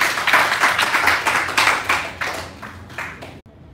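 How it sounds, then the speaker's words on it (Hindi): Enthusiastic group applause at a live acting class, steady dense clapping from a room of students that fades and stops abruptly near the end. "जोरदार तालियां।"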